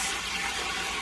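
Hot water is poured from a pot that held canning lids into a canner for jars of spaghetti sauce. The pour is a steady, close, rushing splash that runs without a break for about a second, with no talking.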